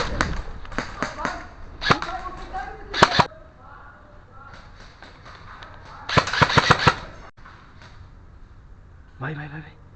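Airsoft guns fire during a team match, in sharp single shots and rapid bursts spread across the scene, with players talking and calling out between volleys.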